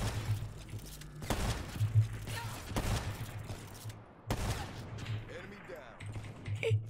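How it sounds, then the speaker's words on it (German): Gunfire bursts in a sniper video game, several sharp shots spaced a second or two apart over low background game sound, loud and close. "Kann mir einer sagen, warum die Schüsse nicht drauf sind?"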